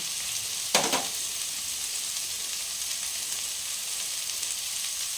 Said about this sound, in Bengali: আমি হালকা হালকাভাবে এটা ভেজে নেব